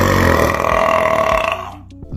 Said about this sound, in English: This one was just a burp.